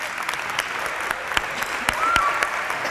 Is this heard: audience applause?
yes